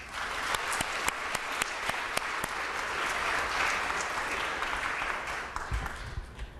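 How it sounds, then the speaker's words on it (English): An audience breaks into a steady round of applause for a poet from Get Lit Poets, dense clapping that holds for several seconds before thinning out at the end. "Please give her a big round of applause."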